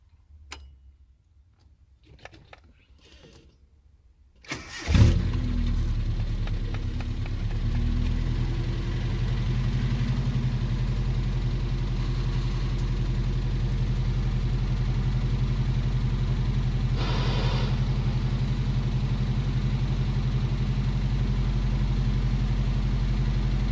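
A 1986 Nissan D21 pickup engine, fresh from a distributor, cap and rotor install, cranks over after a few quiet clicks and catches, then settles into a steady, loud, close idle that holds for the rest of the clip.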